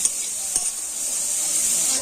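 Chopped onion and vegetables fry in a hot pan, a steady bright sizzle with a couple of sharp scrapes of the spoon as they are stirred, close and alone.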